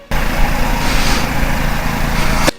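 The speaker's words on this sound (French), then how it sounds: "Désolé pour le bruit, il y a mon voisin qui passe la tondeuse" A neighbour's lawn mower running nearby, a loud, steady broadband engine drone that starts abruptly and cuts off after about two and a half seconds, with no speech over it.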